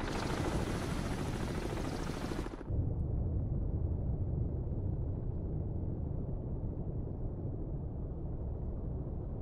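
In the submarine video game Cold Waters, a helicopter's rotor rumble drones steadily and loudly throughout with a dense, continuous roar. A bright hiss on top cuts out abruptly partway through.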